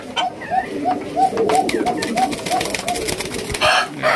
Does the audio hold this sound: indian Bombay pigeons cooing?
yes